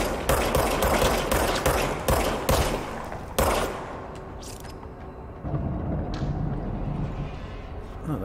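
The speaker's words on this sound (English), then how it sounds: "now I have a machine gun" Machine gun fire in the video game Control comes as rapid, loud bursts of repeated shots and then one longer sustained burst with a rattling tail, with a voice talking faintly beneath the gunfire.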